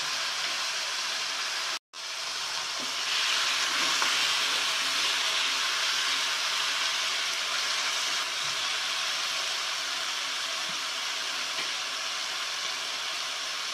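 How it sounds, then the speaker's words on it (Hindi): Tomatoes sizzle and fry in a pan while cooking down for an egg masala gravy, a steady, loud broadband hiss that fills the whole stretch with only a brief break near the start. "टमाटर थोड़ा नरम होता है, हमें फ्राई करना है इसी में।"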